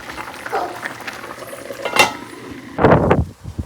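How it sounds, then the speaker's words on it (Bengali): Frozen bitter gourd fries in a home kitchen pan, giving off its water, with a soft bubbling, watery sizzle, a few utensil clinks, and a louder burst of stirring and scraping near the end. "আর এখানে উচ্ছে ভাজা হচ্ছে। যেহেতু ফ্রোজেনে ছিল উচ্ছেটা, জল বেরিয়েছে কতটা।"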